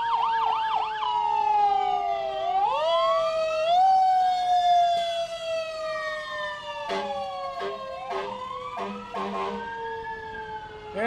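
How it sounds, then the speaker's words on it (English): Fire department sirens wail and sweep up and down during a Christmas parade in Wampum, Pennsylvania, loud and close, with a series of short, blaring horn blasts near the end. "that was our fire department covering up with their sirens and horns"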